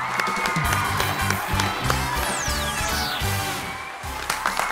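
A TV game show studio audience at the start of Lingo Türkiye breaks into loud, dense applause mixed with cheering and whoops, with bright music playing underneath the crowd noise throughout.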